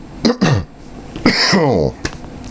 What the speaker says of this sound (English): Clear my throat on a Sunday morning.